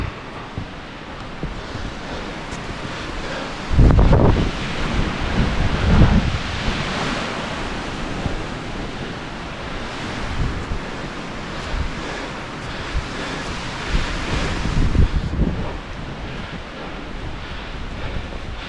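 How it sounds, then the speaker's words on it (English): Strong wind sweeps through the White Mountains, a constant broad roar buffeting the microphone, with several heavier gusts swelling up before easing back. "Wind's really picking up."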